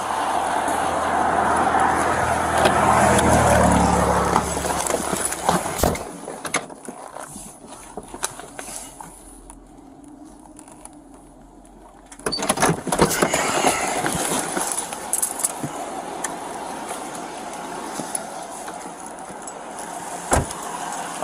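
A car backs up during a roadside traffic stop. The engine rumbles loudly for the first few seconds, then drops to a quieter idle with faint mechanical clicks and shuffling, and surges again briefly near the end.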